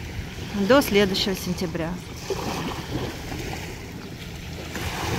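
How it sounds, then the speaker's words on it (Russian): Sea surf rolls onto a beach at Arcachon under wind-buffeted noise, a steady washing rumble with swells, while a person speaks briefly at the start. "Это волшебный звук прибоя"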